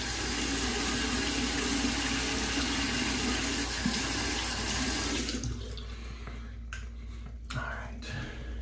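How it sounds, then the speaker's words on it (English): Hot water runs steadily from a bathroom faucet to rinse a razor during a shave, a loud continuous splash that cuts off partway through, leaving a quiet room with a few soft clicks. "So using hot water to rinse the razor"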